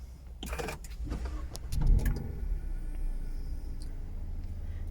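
A Mazda 1.3 SP car engine starting from inside the cabin, a brief cranking burst followed by a low, steady idle rumble, close and moderately loud.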